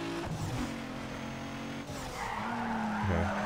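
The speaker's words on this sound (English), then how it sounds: "I'm braking and I'm immediately drifting, like I'm not even trying" A car's tires skid and squeal through a drift in the Need for Speed Underground 2 video game, a sustained screech over a steady engine drone that shifts pitch as the slide goes on.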